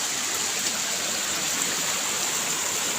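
Steady rushing of river water, a continuous broadband wash heard close and loud with no pauses or voices.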